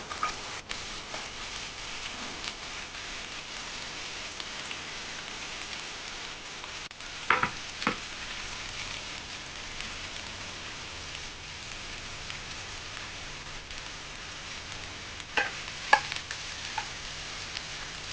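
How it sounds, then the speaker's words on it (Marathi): Onions frying in a little oil in a pan for an onion chutney, a steady soft sizzle with light crackle and a few sharp stirring clinks, close and continuous with no talking. "कांदे छान आपल्याला लालसर होईपर्यंत भाजून घ्यायचं आहे"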